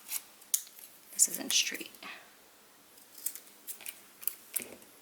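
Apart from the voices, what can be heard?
scissors trimming paper for a craft mailbox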